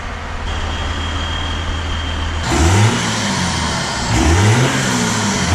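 A 2nd-generation Cummins diesel pickup truck sits backed in and idles with a low steady rumble, then gets two short revs that rise in pitch and fall back. The engine is loud and close, with no talking.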